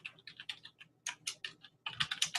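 Close, quiet typing on a computer keyboard: quick bursts of key clicks broken by short pauses, with no speech.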